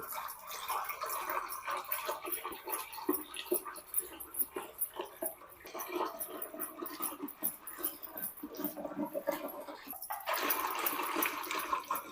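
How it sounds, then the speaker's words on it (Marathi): Wet sloshing and churning of curd mixed with water, beaten into buttermilk with a wooden churning stick; rapid swishing strokes continue steadily, growing briefly louder near the end. "एक वाटी पाणी यामध्ये घालू रवीच्या साह्याने घुसळून घेऊ"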